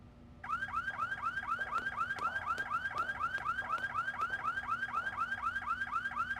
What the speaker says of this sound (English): Touching the exhibits will trigger the alarm.